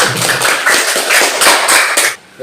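Schoolchildren in a classroom clap their hands in a loud, dense burst of rapid applause that runs steadily for about two seconds, then cuts off abruptly.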